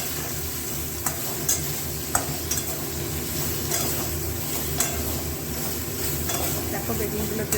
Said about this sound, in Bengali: দেখো বেগুনগুলো কিরকম ভাজা ভাজা হয়ে যাচ্ছে